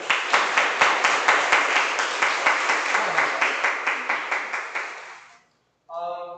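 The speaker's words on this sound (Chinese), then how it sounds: "我们拍手欢迎他们" A church congregation at a Taiwanese-language Sunday service claps together in welcome, a loud rhythmic round of unison claps that slowly fades out, followed by a brief pause and then a voice.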